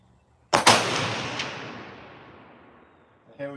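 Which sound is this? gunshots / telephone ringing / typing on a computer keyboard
gunshots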